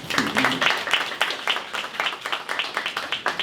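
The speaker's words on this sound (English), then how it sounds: "please give them a round of applause" Audience applause at a ribbon-cutting ceremony for an active adult center, a loose, moderate patter of claps from a modest crowd, heard at middle distance with a faint voice near the start.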